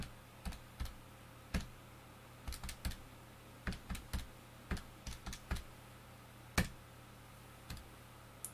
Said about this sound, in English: Now back into the calculator, I can type that all in